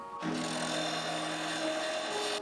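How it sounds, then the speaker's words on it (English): Power grinder working down the end of a brake cable on a Puch Maxi LS moped, a bright whining grind that starts abruptly and holds steady and close for about two seconds. "This cable end's a little bit too big to fit in the lever stopper, so I'm going to grind it down just a little"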